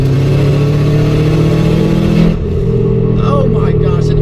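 A modified, boosted 2007 Subaru WRX of roughly 300 horsepower accelerates hard, its engine note rising loud and close before cutting off abruptly, followed by quieter cabin noise and people talking.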